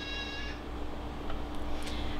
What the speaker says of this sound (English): My cat Frodo decides that he needs to be in this